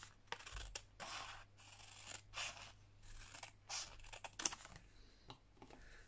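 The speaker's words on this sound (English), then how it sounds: "I'm going to trim a little tiny bit off this side, about there I think" Quiet scissor snips trim the edge of a paper CD envelope, in several short irregular cuts with light paper rustling between them. The whole passage is faint and close, with no speech.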